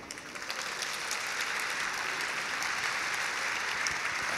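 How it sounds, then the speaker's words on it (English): Audience applause at a campus party keynote, a dense steady wash of clapping from a crowd that builds quickly and holds evenly throughout. "One round of applause to the campus party people and all the team."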